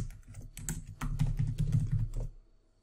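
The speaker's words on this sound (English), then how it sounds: "what I can do is type in tag, colon, and then a keyword" A search term is typed on a computer keyboard: a close, quick run of clicking keystrokes that stops abruptly near the end.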